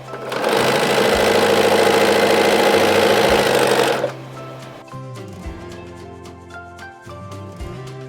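A sewing machine stitches quilt rows in a loud, steady whir for about four seconds, then stops, leaving only quieter handling and clicks from the fabric and the machine.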